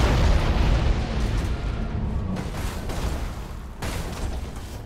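A starship blows apart in the space strategy game Battlefleet Gothic Armada 2, a loud, rolling blast with deep rumble that swells up front and then trails off into a long, churning decay with a few later bursts.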